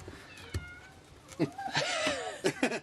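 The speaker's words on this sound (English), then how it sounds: "That's one of our mascots, Tyson the sure cat" A cat meows several times in short rising and falling calls, fairly close, with someone talking around it and some clattering during car repair work.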